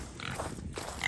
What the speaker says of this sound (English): Hey, pig.